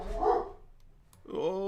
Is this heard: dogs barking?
yes